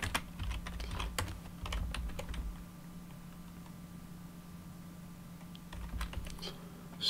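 Quiet, fast typing on a computer keyboard while entering a subnet mask in a network lab. Bursts of soft keystrokes come in uneven runs with a short pause in the middle, close by and without talk.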